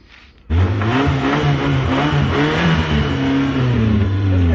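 A car engine with a loose silencer bursts to life and revs loudly with a rough, rattling exhaust drone, holding a steady throaty roar up close.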